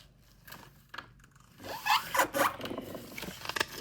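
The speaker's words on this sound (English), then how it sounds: "Now you want to fold this top edge to the center, like in many paper airplanes." A sheet of paper is folded by hand to make a paper airplane, with soft rustles and taps early, then a louder stretch of crisp crinkling and creasing that continues to the end at close range.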